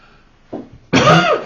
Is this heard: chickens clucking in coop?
no